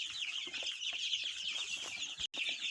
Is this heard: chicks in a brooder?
yes